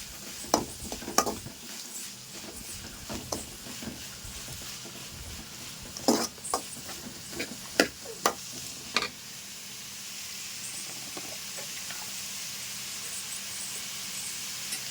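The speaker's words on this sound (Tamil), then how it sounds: "வெங்காயம் பார்த்திங்கன்னா நல்லா வதக்கணும் நம்ம" Onions sautéing in a pan for chicken gravy: a steady soft sizzle with intermittent scraping stirs and clinks of a spoon against the pan, close by, no talking.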